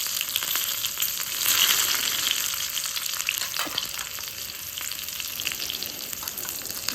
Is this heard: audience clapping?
no